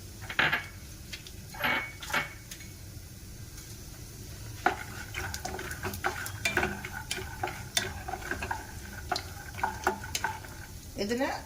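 Peanuts fry in a little oil in a kadai with a faint sizzle, punctuated by sharp rattling clicks and metallic scrapes as they are stirred, in irregular bursts close to the pan.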